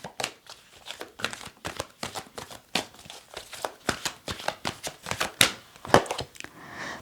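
Tarot cards are shuffled by hand close up, a rapid series of crisp riffling and slapping bursts repeating irregularly, with a couple of sharper snaps near the end.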